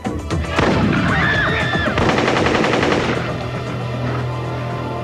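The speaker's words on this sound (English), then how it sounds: "It's just those kids shooting up the park again." Rapid bursts of gunfire in a park ring out loud and close, a fast volley of sharp cracks echoing off surroundings before fading into a lingering hum.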